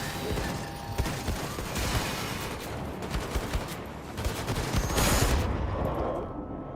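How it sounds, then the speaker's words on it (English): Dense, continuous volleys of gunfire from two shotguns in the Planet Coaster 2 game, loud and crowded with overlapping blasts that roll on without a break for several seconds. "We will kill them with 2 shotguns"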